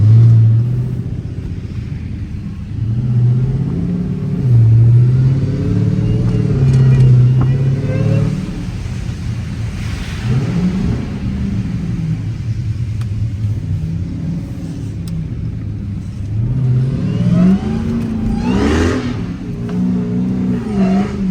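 A Dodge Demon Charger's engine revs and rumbles in deep snow, the loud pitch rising and falling over and over as the gas is pressed while someone talks over it.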